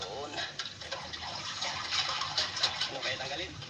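Water gushes steadily into a home aquarium as it is filled, a close, continuous rushing splash with voices talking over it.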